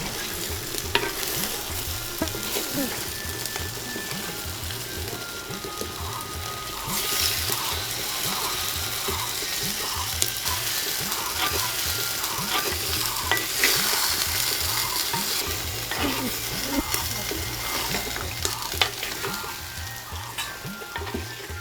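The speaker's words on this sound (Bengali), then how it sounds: "ডাঁটাটা মশলায় ভালো করে মিশিয়ে কষাতে দেয়া হলো" Stems are stir-fried in spice masala in a pan, making a loud, continuous sizzle with rhythmic scraping and stirring strokes throughout.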